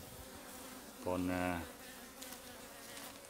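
Honey bees are being caught and gathered into a hive box outdoors, giving faint buzzing with one brief, louder close buzz in the middle and a short spoken word.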